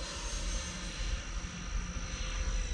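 A Freewing F-14 Tomcat 80mm RC jet flies overhead, its ducted-fan whine a steady, moderately distant drone that rises and falls slightly with no talk.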